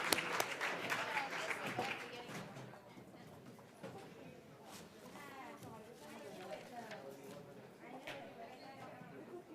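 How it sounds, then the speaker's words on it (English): Applause from an awards ceremony audience for middle school quiz bowl winners, sustained clapping that swells at the start and then settles into a steadier, thinner patter, with voices murmuring underneath. "So how about a big round of applause for our middle school Quiz Bowl first and second place"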